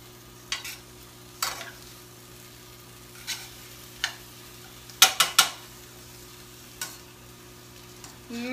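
Kale cooking with spaghetti squash in a slightly too small pan, heard as a low steady hum with scattered scrapes and clinks of a utensil stirring, clustered in the middle, with no voices.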